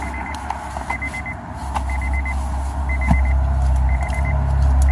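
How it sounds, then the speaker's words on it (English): Steady, repeating reversing beeps sound in short groups over a loud, rumbling vehicle engine close by. "make the beeping stop"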